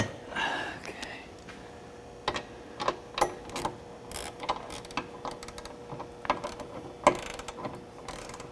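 A torque wrench tightening Curt trailer hitch bolts on a 2009 Honda CR-V, giving a series of sharp ratcheting clicks in irregular clusters, close up against a quiet background, with brief talk.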